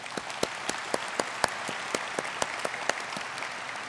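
An audience at the State of the Port 2015 event applauds newly hired and promoted port employees, a steady round of clapping with individual sharp claps standing out and no talking over it.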